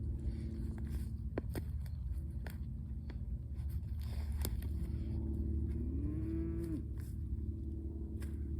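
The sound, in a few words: cows on a farm pasture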